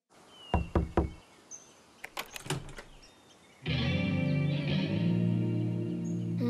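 Knocks on a door in an animated kids' cartoon come in two quick bursts of sharp raps, followed by a loud, sustained wash of sound.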